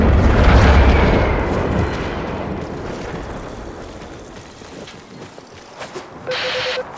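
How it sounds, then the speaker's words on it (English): The Macross cannon in a video game fires and explodes with a loud, deep boom that rolls away over several seconds, followed by a few faint clatters and a short electronic tone near the end. "That was the old Macross cannon."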